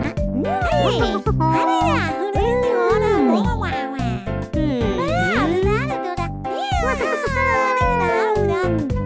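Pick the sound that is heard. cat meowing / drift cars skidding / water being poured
cat meowing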